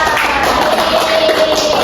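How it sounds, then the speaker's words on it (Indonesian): Classroom of pupils clapping during a microteaching lesson, a steady dense patter of many small hands lasting the whole stretch, with faint voices mixed in. "Tepuk tangan"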